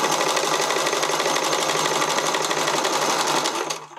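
A sewing machine on its widest zigzag at medium stitch length sews elastic onto the leg openings of briefs, a loud, dense, rapid whirring chatter that runs steadily before stopping abruptly near the end.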